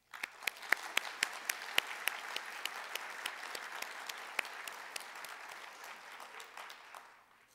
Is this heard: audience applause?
yes